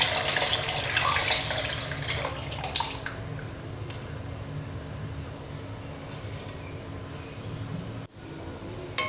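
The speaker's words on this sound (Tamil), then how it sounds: "இந்த டைமில் நம்ம கரைச்சி வச்சுருந்த புளி தண்ணியை உள்ளே விட்டுடலாம்." Tamarind water pours into a pan of village-style fish curry, a splashy, bright stream for about three seconds that then fades to a low simmering hiss and faint background hum.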